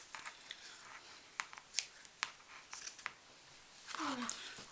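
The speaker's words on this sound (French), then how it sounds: "tu peux déjà couper le long" Scissors snip through red felt while a Christmas decoration is made by hand, giving a quick series of sharp, close, quiet cuts with short pauses and a brief rustle near the end.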